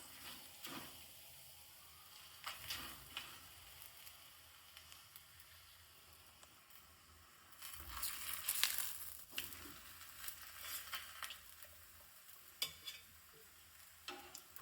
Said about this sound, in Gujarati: શેકવાનો છે તવી પર